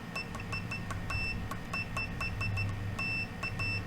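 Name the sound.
multimeter continuity check beep, X-Tech meter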